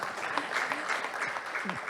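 A seated audience at a district forum on pedestrian-friendly streets applauds a presenter after a talk, a short, moderately quiet burst of clapping with some murmuring voices mixed in.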